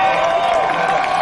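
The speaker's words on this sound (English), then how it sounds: "I'd really like a big applause for her." A crowd at a Hempfest outdoor show claps and cheers in a brief, steady burst of applause, with a sustained tone running underneath.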